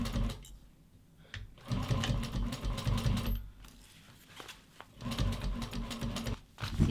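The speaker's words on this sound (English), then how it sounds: "So I'm going to sew it down at a 1/4 inch seam allowance" A Juki 1541S industrial leather sewing machine stitches nylon binding in two long bursts of fast, steady needle chatter and motor hum, separated by quieter pauses, close and fairly loud with no speech.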